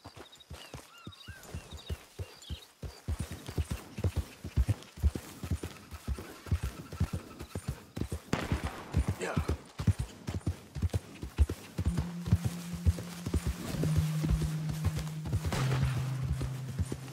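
Steady, rhythmic clip-clop of horse hooves trotting on a path in the Red Dead Redemption 2 video game, close and clear, with a low musical drone entering toward the end.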